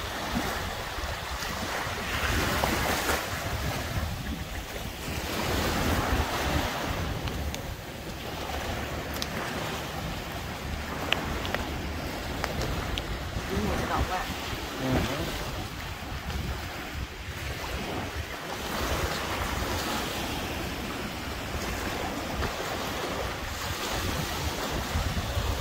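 Waves wash steadily onto a beach with crystal clear water, a continuous surf roar mixed with gusty wind buffeting the microphone, with no talking.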